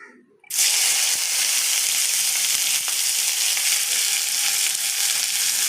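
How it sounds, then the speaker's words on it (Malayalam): Onions, two medium-sized, sizzle and fry steadily in hot coconut oil, a loud continuous crackling hiss that bursts in as they drop into the pan, heard alone and close. "വെളിച്ചെണ്ണ ചൂടായിട്ട് വരുമ്പോൾ അതിൻ്റെ ഉള്ളിലേക്ക് സവാള ഇടുക"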